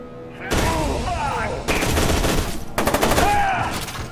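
Rapid automatic gunfire from a weapon in the shooter game F.E.A.R. 2: Project Origin, sounding in three dense bursts of shots, loud and close, with game effects in between.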